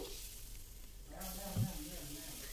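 A steady, soft sizzling hiss of spices and turmeric frying in a pan for Sundanese nasi liwet, continuous and close, with faint background murmur.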